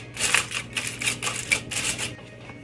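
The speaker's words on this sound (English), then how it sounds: "So the dressing's finished. I'm about to just put this foil on top." Aluminum foil crinkles and crackles over a dish of homemade dressing in a kitchen, a series of close, bright, rapid rustling bursts in an irregular rhythm, heard alone without talking.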